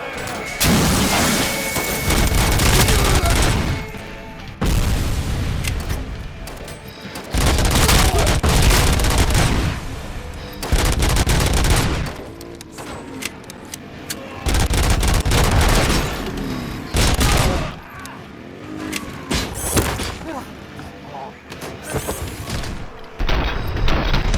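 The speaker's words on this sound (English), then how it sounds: "This is a machine gun?" Machine gun fire in the video game Robocop: Rogue City, loud sustained bursts of rapid shots and booming impacts coming in repeated waves separated by short lulls, with a voice talking between bursts.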